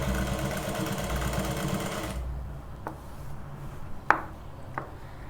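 A sewing machine stitching a button placket runs steadily at slow speed for about two seconds, then stops, followed by a few sharp clicks and taps nearby.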